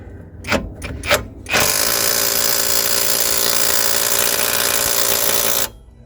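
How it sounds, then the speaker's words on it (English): An impact gun works on a stuck suspension nut of a Citroen C1 City Bug, firing two short bursts before a long, loud, continuous hammering rattle that runs for about four seconds and then cuts off. "I'm hoping my freshly returned impact gun from Sealy is going to get this job done"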